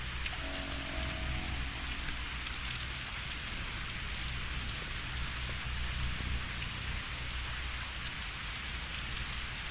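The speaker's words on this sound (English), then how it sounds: "Sudden rain." Steady rain pours down in the video game Pathologic 2, a dense, even hiss of drops on surfaces that holds at constant loudness throughout with no voices.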